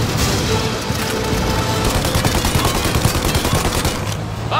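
Loud, rapid gunfire fills Mafia Definitive Edition, with dense bursts of overlapping shots and booms running continuously.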